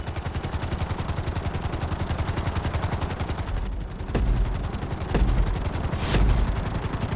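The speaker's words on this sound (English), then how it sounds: "we're gonna put you in a helicopter for this lesson" A helicopter in the video game GTA 5 flies with a loud, steady, rapid rotor chop. A few heavier thumping surges come near the end.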